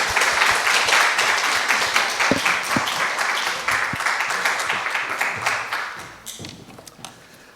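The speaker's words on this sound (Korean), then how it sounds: "박수로 환영하시겠습니다" A church congregation applauds to welcome a preacher to the pulpit: steady, full clapping that gradually thins and fades, with a few last claps near the end.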